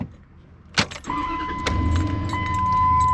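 Keys jangle in the ignition of a used truck, a chime sounds, and the engine cranks and catches, settling into a rising, steady idle nearby.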